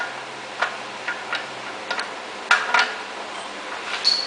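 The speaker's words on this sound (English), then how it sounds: "we're going to break it with the breaker bar, the trusty Harbor Freight" Ratcheting Harbor Freight breaker bar working on a stubborn nut on a Chevy 10/12 bolt rear end, giving a handful of sharp, separate clicks spread irregularly over a few seconds, fairly close and otherwise quiet.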